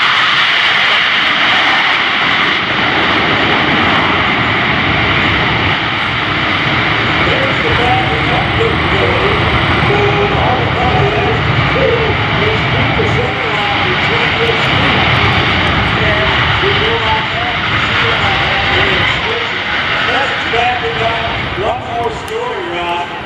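A C-17 Globemaster III at an air show roars with its jet engines and thrust reversers in one loud, continuous, unbroken rumble that fills the whole stretch, with a voice faintly audible beneath it.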